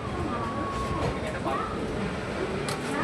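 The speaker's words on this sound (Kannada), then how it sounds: "ಪಕ್ಕದ ಪ್ಲಾಟ್ಫಾರ್ಮ್ಗೆ ಯಾವುದೋ ಒಂದು ಟ್ರೈನ್ ಬರ್ತಾಯಿದೆ" A train pulls into the neighbouring platform at Salem Junction in the early hours, a continuous rumbling roar with a faint high whine running through it.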